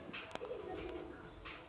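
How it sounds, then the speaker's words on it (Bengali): Pigeons coo softly and briefly close by, a short low murmuring call heard faintly in a quiet setting. "দেখুন পায়রা কোয়ালিটি দেখুন"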